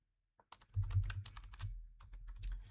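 Someone types code on a computer keyboard while working in a Power Apps model-driven app; a quick burst of close, clattering keystrokes follows a brief silence, with no voices.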